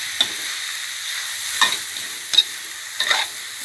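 Bonito fish stir-fried dry, without water, with red curry paste, sour bamboo shoots and tree basil leaves, giving a steady soft sizzle broken by a few brief scraping stirs.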